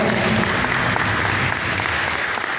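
Steady, dense applause fills a sharing session hall as an audience claps for a vertical rescue team, loud and continuous without pause.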